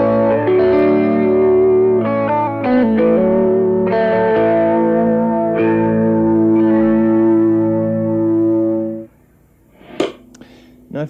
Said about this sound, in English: If I add in the next pickup here, in series and in phase, it sounds like this.